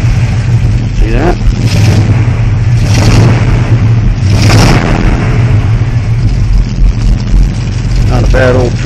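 An old Chevy truck engine idles steadily nearby, a continuous low rumble throughout, with people talking briefly over it.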